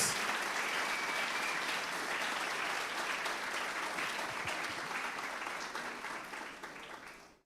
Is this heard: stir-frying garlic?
no